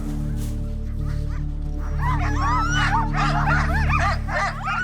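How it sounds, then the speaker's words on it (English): Excited sled dogs in the Arctic bark, yip and whine in an overlapping frenzied chorus that builds and grows denser, several dogs fairly close over a constant low engine-like hum. "The excitement, the dogs kind of going, me, pick me next."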